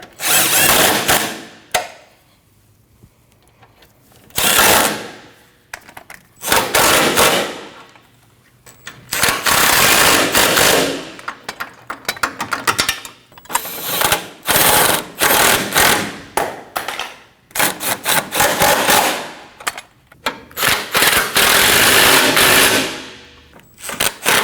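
Power tool driving down the 10mm radiator bolts on a 2013-2019 Ford Escape 1.5L, heard as repeated loud bursts of whirring and rattling separated by short pauses, alone without talk.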